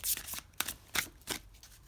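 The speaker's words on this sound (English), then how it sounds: "I'm just going to do a little shuffling before" A deck of tarot cards is shuffled by hand in several quick riffling bursts, close and crisp, with short pauses between them and no talk.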